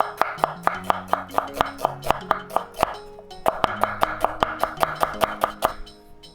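A kitchen knife slices an onion lengthwise along the grain on a board, giving a steady run of crisp, close chops in two bursts with a short pause between, and someone talks over the cutting.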